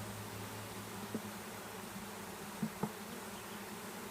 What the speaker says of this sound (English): Feel how much air is coming out of there with them bees